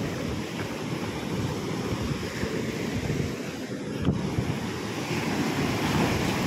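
Steady ocean surf rolls against the shore at a fishing spot, a continuous wash of breaking waves mixed with buffeting wind noise on the microphone, with no voices.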